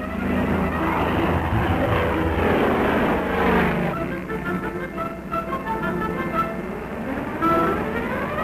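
Fighter planes of a 1953 fighter bomber wing taking off, their engines producing a loud, sustained roar with rising and falling pitch sweeps as they accelerate and pass, continuous throughout.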